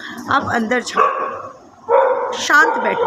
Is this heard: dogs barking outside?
yes